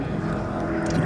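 A British Hawker Sea Fury propeller fighter from the late 1940s, fitted with a sleeve-valve piston engine, hums past at moderate distance in a short, steady engine drone.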